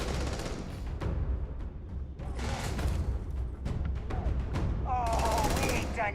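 Rapid gunfire from a firefight in the video game Starfield, a dense stream of overlapping shots running throughout with louder bursts near the end, mixed with game effects and some speech.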